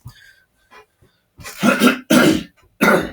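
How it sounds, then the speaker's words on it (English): Several loud, close throat-clearing coughs in quick succession after a few soft breaths. "I just want to clear my throat"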